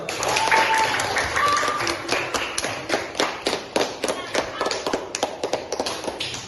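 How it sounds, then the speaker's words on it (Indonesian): A classroom audience at a coding and AI session claps, starting as a loud blended burst and thinning into scattered, uneven individual claps toward the end. "Kalau bahagia silakan tepuk tangan dulu."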